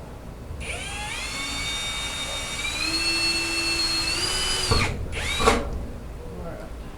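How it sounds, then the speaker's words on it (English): A power drill, switched out of hammer mode, drilling pilot holes, whines up, holds a steady rising pitch for a few seconds, then stops, followed by a couple of short bursts. "I'm just going to drill a couple pilot holes"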